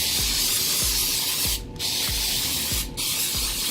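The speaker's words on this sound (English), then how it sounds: "I'm gonna take it and spray every inch of this pan." Cooking spray hissing onto a cake pan in two long close bursts, each broken by a brief pause, loud and steady with faint rhythmic ticking underneath.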